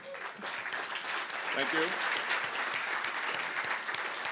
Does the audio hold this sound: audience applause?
yes